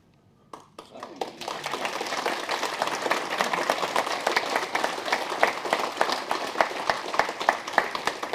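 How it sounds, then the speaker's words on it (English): Convention audience applause after a keynote talk on radio spectrum, beginning with a few scattered claps and swelling quickly into dense, sustained clapping from many hands, close and steady to the end. "I take that applause means there's no questions."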